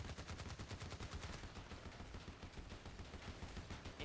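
Rapid, continuous Uzi submachine gun fire in Battlefield Play4Free, a long, evenly rhythmic burst of fast shots with steady loudness from start to end.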